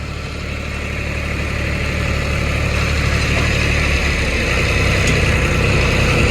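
A tractor engine idles steadily with a deep, continuous low rumble and constant vibration, no voices, holding level throughout.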